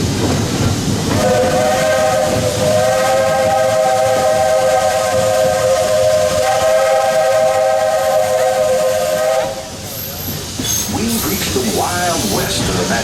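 A loud, sustained steam train whistle blows for several seconds over a constant hiss at Disney World's Magic Kingdom, then cuts off, leaving hissing steam and some voices.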